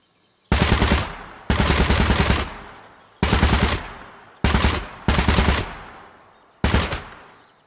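An UZI fires full-auto in a gun-restoration video game, six rapid bursts of crackling shots, each sharp and loud up close, separated by short pauses.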